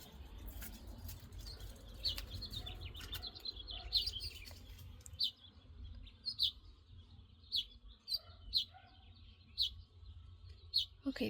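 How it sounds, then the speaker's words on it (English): A small bird chirping indoors or nearby, a series of brief, high, faint tweets repeating at irregular intervals over quiet background rustle, becoming more regular toward the end. "It's still chirping."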